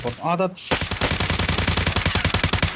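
Rapid automatic gunfire bursts loudly and continuously in Delta Force Mobile, a mobile shooter game, dense sharp shots following a short spoken remark.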